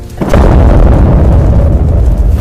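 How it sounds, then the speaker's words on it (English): A loud, deep blast erupts suddenly and rumbles on heavily, a dense booming roar that stays loud until the end. "Now the only noises I hear are loud explosions."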